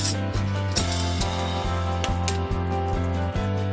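Debris being scraped from a leaking bathroom floor, a repeated rough rasping stroke, close and fairly loud, with a steady hum running underneath.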